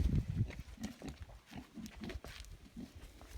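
A young boar pig on a Ukrainian village farm gives a series of low grunts and snuffles, close and fairly loud, coming in short irregular bursts with no voices over them.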